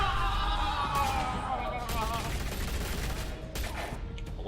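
Gunfire in Batman: The Telltale Series rattles as a steady fusillade of shots under a dense game mix, with voices speaking over the top throughout.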